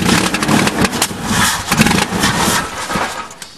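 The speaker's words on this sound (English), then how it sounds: "Just crank it." A 1998 Ford truck engine cranks over without catching, its starter churning in a steady, continuous rhythm at close range for several seconds with no fuel reaching it.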